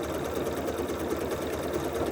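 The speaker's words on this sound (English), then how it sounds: "And then I'm just going to stitch." A sewing machine fitted with a #43 couching foot and zigzag needle plate stitches a mock crochet pattern, its steady, even motor whir and rapid needle rhythm running continuously and close up with no talking.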